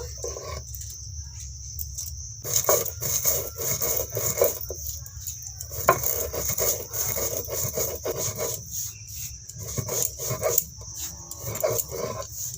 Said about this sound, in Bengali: মশলাগুলো সিলে গুঁড়ো করে নেব